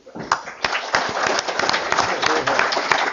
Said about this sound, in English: So I think a round of applause for the guys that did their bit for world friendship